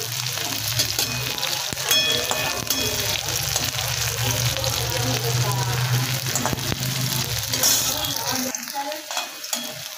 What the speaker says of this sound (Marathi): कांदा पण आता चांगला भाजतोय